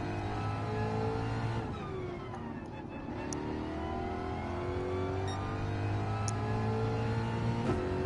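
A Ford race car engine in the Gran Turismo 7 video game drones steadily, with shifting harmonic pitches rising and falling through gear changes, loud and continuous with no talk over it.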